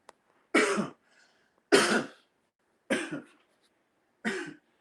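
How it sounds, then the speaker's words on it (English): Four separate coughs, evenly spaced about a second apart, close and fairly loud with silence between them. "Sorry, my coughing."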